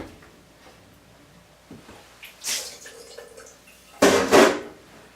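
Bottled Poland Spring water poured into a stock pot of organic chicken feet, two splashing bursts, a short one and then a longer, louder gush, against a quiet kitchen background.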